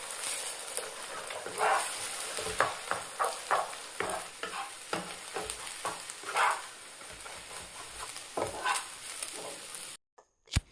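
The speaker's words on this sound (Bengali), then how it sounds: "একইভাবে ডিমটাকেও আমি ভেজে নেব ঝুড়ি ঝুড়ি করে" Egg is fried and scrambled into small bits in a pan, giving a constant close sizzle broken by irregular scraping stirs. The sound cuts off abruptly near the end.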